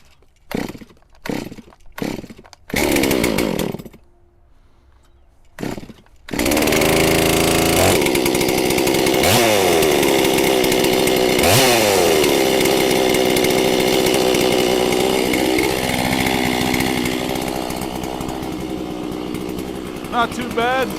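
A chainsaw pull-started with several short sputtering attempts and a pause, then catching and running loud and steady, revving and settling into a somewhat high idle, close by and alone for the rest of the stretch.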